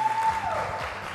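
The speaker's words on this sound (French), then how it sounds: "On applaudit, s'il vous plaît." A game-show studio audience applauds in a dense, steady wash of clapping, with a faint tone sounding underneath.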